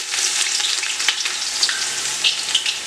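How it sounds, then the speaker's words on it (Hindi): Onion going into hot ghee and frying with a steady, dense crackling sizzle, stirred now and then with a few sharper pops, close and loud throughout. "घी हमारा गर्म हो चुका है। अब इसके अंदर हम ये जो प्याज है इसे हल्के से डालेंगे"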